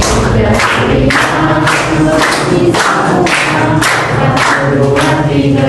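Classroom of students clapping in a rhythmic counted pattern, loud and close, with bursts of claps repeating at a steady beat across the whole stretch, voices mixed into the din.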